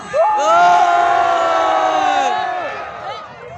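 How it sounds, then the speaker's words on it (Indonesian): A crowd cheers and whoops loudly in a single sustained burst at a Kecak dance performance at Garuda Wisnu Kencana, Bali, voices blending into a bright roar that slowly fades. "Selanjutnya mana suaranya penonton yang hadir di sini semuanya."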